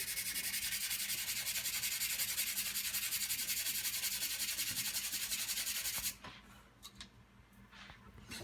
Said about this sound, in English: then I'll take some sandpaper. I'll start off with a rough one. This one is 150. I'll sand it.